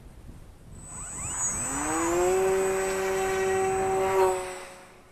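A Volantex P51D Mustang RC model plane with a 750mm wingspan flies past, its electric motor whining as the pitch rises and then falls. The motor swells to a steady drone that stays fairly loud, then fades with the wind.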